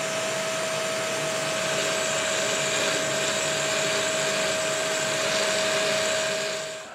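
A drill boring a hole into wood runs steadily at close range, a loud, continuous whirring with a fixed tone that winds down at the very end, with no talk.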